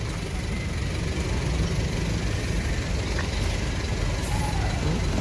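A Sinar Jaya Suites Class bus rumbles as it pulls in and parks at the ticket office, its heavy diesel drone constant and close, with a faint high tone and hiss above.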